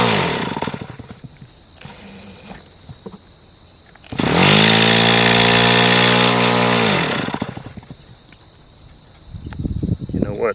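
Irvine Q72 model aircraft glow engine starting and running, a loud sustained high-pitched buzzing whine lasting about three seconds before cutting off, with handling noises and clicks around it.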